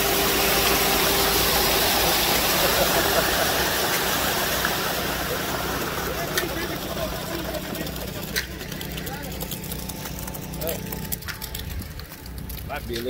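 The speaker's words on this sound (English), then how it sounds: "We're pouring concrete down" Wet concrete pours steadily down a chute from a mixer truck at a kennel building site, a loud continuous rushing wash that slowly eases off, with an engine rumbling underneath and a few faint knocks near the end.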